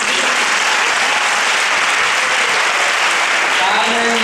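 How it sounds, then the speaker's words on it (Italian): Sustained applause from a large conference audience, a dense, steady wash of clapping hands lasting throughout without a break. "Un più grande applauso del giorno vi chiedo"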